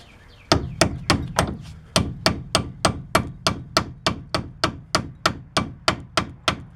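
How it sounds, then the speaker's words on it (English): A hammer taps a socket onto rusty rear brake bolts on a 2007 Chevy Impala, with about twenty sharp metallic strikes in a fast, even rhythm, loud and close, each followed by a short ringing decay. "So rusty that the socket doesn't want to slide right on, so we'll tap that on with a hammer."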